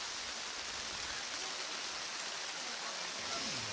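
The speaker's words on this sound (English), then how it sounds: "I mean, it's just raining buckets right now." Heavy rain pours down steadily during an outdoor high school district final softball game, a dense, even hiss of water with no pauses and no clear voices.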